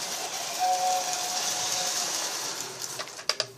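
Toy train sounding its horn, a sustained electronic honk tone followed by a few sharp clicks and clacks from the toy near the end, close and fairly quiet with no speech.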